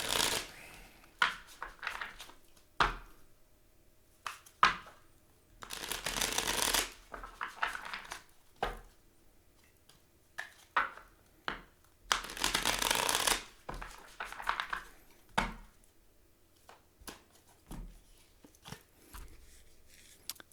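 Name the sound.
shuffling tarot cards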